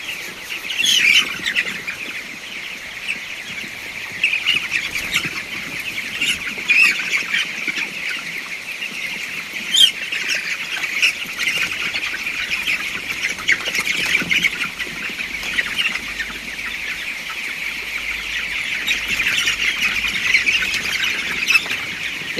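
Farm chickens on a hobby poultry farm squawk and cackle continuously, a dense flock chorus close by with overlapping calls and no talk.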